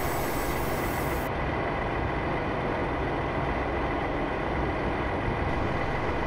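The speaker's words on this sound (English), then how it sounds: "So I'm allowing the train to continue to coast." British express train coasting along rails on the Liverpool to Manchester route in Train Simulator 2015, a constant loud rumble of wheels and running gear with a thin high whine briefly present, no talk.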